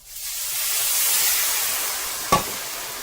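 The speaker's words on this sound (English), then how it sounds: "I better turn the heat up and pour the water in." A steady, loud hiss of steam and sizzling builds and holds as water is poured into a hot pan, with a short sharp burst near the end.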